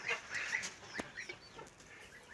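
Domestic fowl and young geese call around a farmyard where ducks are kept, with scattered clucks and honking cries overlapping at moderate distance against a steady background.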